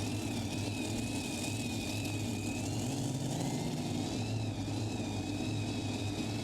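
A super modified pulling tractor at a 2023 pro pulling event in western Illinois gives off a continuous, loud engine roar heard from a distance, with a steady high whine over a deep rumble.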